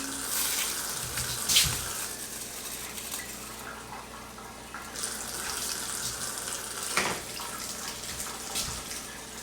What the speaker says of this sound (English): I'm going to put like 2 more cups of water in.